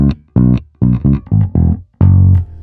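A bass guitar plays a funk line, short punchy plucked notes in a syncopated rhythm with gaps between phrases, close and loud, closing on a longer held low note.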